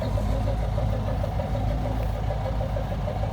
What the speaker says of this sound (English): So we have a Massey Ferguson 390 four-wheel drive